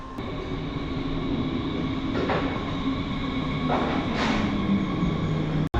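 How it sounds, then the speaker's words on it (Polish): Steady rumble of a train pulling into a station in Zurich, with a sustained hum and a few rising squeals of wheels and brakes; no voices. "to od razu nadjeżdża pociąg"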